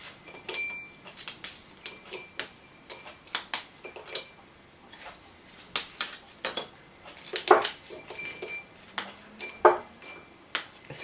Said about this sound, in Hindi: बिस्किट्स को आप जो है थोड़ा सा हाथों की मदद से उसको तोड़ लेते हैं।